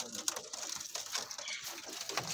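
Golden pigeons offered for sale with white beaks and red eyes, cooing and rustling close by in a steady, busy flock murmur with no speech.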